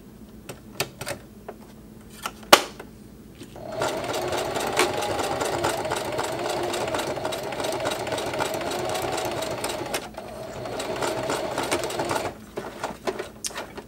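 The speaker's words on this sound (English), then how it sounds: "I was just sewing across the zipper teeth, no issue at all" A Singer HD sewing machine stitches across zipper teeth while making a bottle carrier. A few clicks come first, then a steady, even whir runs for several seconds, pauses briefly and resumes.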